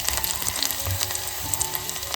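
Garlic sizzles in hot oil for a tadka while mutton curry is being made, a loud, close, steady crackling fry with tiny popping spatters throughout.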